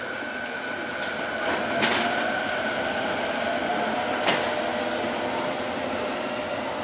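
Train pulling away from a Tokyo station platform: a steady mechanical hum and rumble with a couple of brief squeaks and clunks, heard close by without talk.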